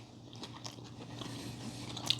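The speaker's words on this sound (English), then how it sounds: "So the cornflakes give it the crunch" Someone bites into and chews a crunchy cinnamon sugar cookie topped with cornflakes, giving close, crisp crunches and chewing over about two seconds, with no talking.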